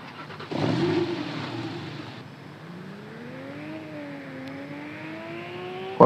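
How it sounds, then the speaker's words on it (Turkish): Porsche sports car in the Roblox Driving Empire game, its engine revving and climbing steadily in pitch as it accelerates, loud and alone with no voices, ending in a sudden sharp burst. "Bu araba Porsche arkadaşlar."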